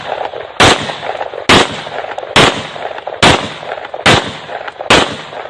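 Celebratory gunfire or fireworks at a New Year party: six loud, sharp bangs spaced roughly one second apart, each cracking over a steady background din.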